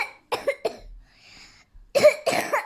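Several close coughs in two clusters, a quick pair and a triple at the start, then a harsher burst after a near-silent pause.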